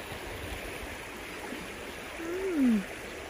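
A strongly flowing stream in Melbourne, a steady broadband rush of water heard close by, with a brief low swell near the end.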